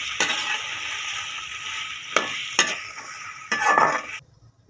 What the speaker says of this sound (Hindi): इन सारी चीज़ों को मिक्स कर लेंगे।